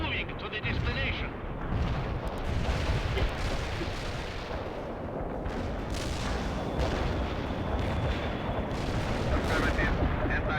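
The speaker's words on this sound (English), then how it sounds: "Light artillery barrage." Artillery barrage in the real-time strategy game World in Conflict, dense overlapping booms and rumbling blasts sustained throughout, with radio-style voices speaking over the bombardment.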